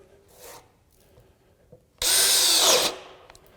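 A DEWALT ATOMIC compact 20V brushless half-inch drill/driver bores into wood with a 1.5 inch spade bit, a loud high-speed whirring burst of about a second after quieter handling sounds, then cutting off abruptly.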